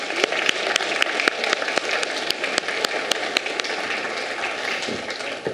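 Audience applause for a group of women at a staged dialogue event between Thomas Jefferson and Alexander Hamilton, steady and fairly loud with scattered sharp individual claps throughout, no voices.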